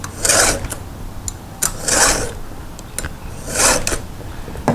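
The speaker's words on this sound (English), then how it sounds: "it's sharpening up the chain itself" Hand file rasping across the cutters of a chainsaw chain, guided by a filing guide, in three distinct bursts of strokes with short gaps between them, close and fairly loud.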